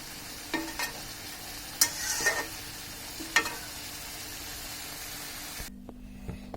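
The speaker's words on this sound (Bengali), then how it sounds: "এখন ভালো করে একটু নেড়ে দিচ্ছি, চুলার আঁচটা বাড়িয়ে দিব।" Pumpkin and shrimp fry stirred in a pan, a steady sizzle with several sharp scraping strokes of the spatula, then cutting off abruptly near the end.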